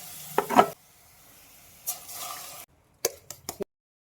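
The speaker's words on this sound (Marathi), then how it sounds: "आता आम्ही मासे आणि वाटाप एकत्र केलेला आता घालतो ह्याच्यात." Fish and ground spice paste going into sizzling tempering with green chilli and coriander, heard as short bursts of crackle and stirring separated by near-silent gaps, several quick scrapes clustered toward the end.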